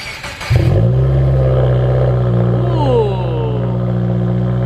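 A Subaru WRX with a cheap $300 aftermarket exhaust cranks and fires up, settling into a loud, deep, steady idle with a slight revving swell, close and alone with no talk over it.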